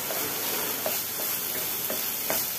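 Soaked, roasted ingredients stir-frying in a pan for six minutes produce a dense, steady sizzle and hiss, broken by soft, regular stirring scrapes at close range.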